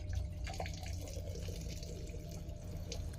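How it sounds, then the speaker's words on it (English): Water runs quietly from the washbasin tap in the toilet of a Swiss tilting high-speed train, a faint steady splash under the low rumble of the moving train. "for a second I thought the water didn't work, but it turns out you just have to push a button up above"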